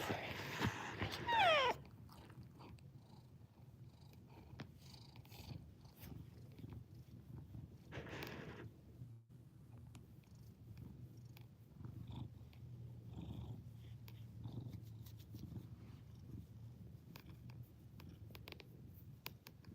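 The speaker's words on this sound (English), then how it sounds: "Show us the pet cat. Are you a pet cat or are you a feral cat or a wild cat?" A pet cat purring softly and steadily up close for a long stretch, a low continuous rumble with faint scratching and brief rustles in the background.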